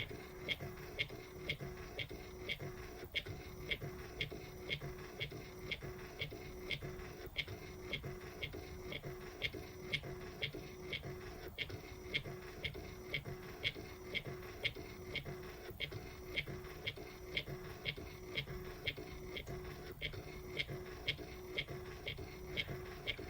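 A Nelko PP01 photo printer works through a photo print, giving off a steady train of evenly spaced mechanical clicks and ticks over a faint motor whir, close and fairly quiet.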